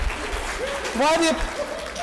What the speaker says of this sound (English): Why the applause?